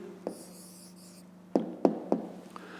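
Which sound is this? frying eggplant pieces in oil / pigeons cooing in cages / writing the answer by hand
writing the answer by hand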